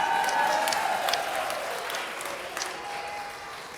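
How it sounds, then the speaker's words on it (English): Wedding guests at the speeches break into loud cheering and applause that swells, then fades, filling the room with a crowd roar and scattered whoops. "Don't cheer that."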